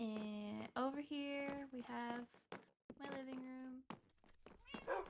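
A cat meows in a Minecraft-style video game, several drawn-out meows in close succession, fairly loud and near, mixed with a person talking.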